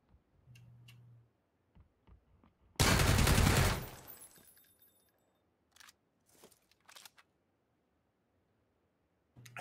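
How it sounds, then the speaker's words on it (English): Gunfire in the video game PlayerUnknown's Battlegrounds, a single loud burst of rapid shots lasting about a second, followed by scattered faint clicks and ticks in an otherwise quiet scene. "I think I just heard you shoot him"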